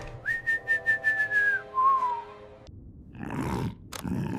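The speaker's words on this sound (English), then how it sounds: "Gus' cheerful whistling echoed down the hall." Cheerful whistling echoes down a hall, a long held note sliding slightly downward, then a shorter lower one, followed by rustling and a thud.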